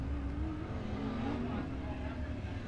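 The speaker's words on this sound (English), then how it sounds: "So one more USRA American Racing Series modified hot lap session tonight here at the Revolution Park" USRA American Racer modified dirt race cars running hot laps at Revolution Park speedway, a continuous rough engine drone with a wavering revving tone, carrying under a voice talking over it.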